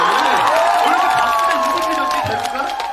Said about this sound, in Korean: 여러분 박수 좀 쳐주세요